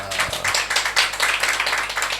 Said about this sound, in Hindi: आपकी तालियों में कंजूसी थी।